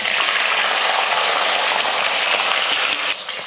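Mustard seeds, cumin and small shallots fry in hot oil with a steady, dense hiss and sizzle, loud and close, easing slightly toward the end.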